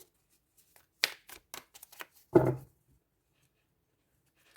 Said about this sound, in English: Overhand shuffles very nicely.